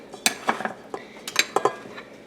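Two spoons scrape and clink against a dish while sweet tea biscuit dough is dropped in for a peach cobbler, making a few soft, irregular metallic taps close by.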